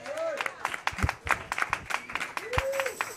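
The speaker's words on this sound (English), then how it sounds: "let's send a round of applause for Shades of L.A." Scattered audience clapping at an anniversary show, uneven individual claps with a couple of brief whistles, fairly light and close.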